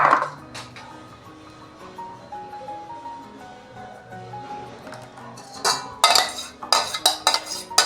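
A spoon scrapes and clinks around a bowl while a mixture is stirred, quiet at first, then a run of sharper knocks toward the end.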